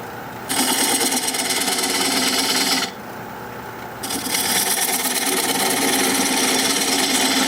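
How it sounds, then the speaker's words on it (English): A diamond point tool scrapes steadily against spinning red cedar on a wood lathe, a loud, continuous rasping hiss that dips briefly partway through and then resumes. "Now I'm going to use this diamond point tool to square up the sides of the tenon."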